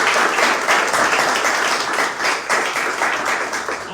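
An audience at a garage car show celebration applauds loudly and steadily, a dense wash of many hands clapping close by.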